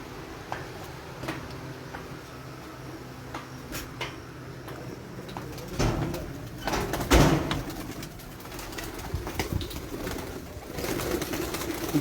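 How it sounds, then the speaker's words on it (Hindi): Pigeons are released at night for flight training in Chiniot, Punjab, with soft cooing and a few bursts of fluttering wings over a steady outdoor background. "उन्होंने कबूतर उड़ा दिए अंधेरे के लिए"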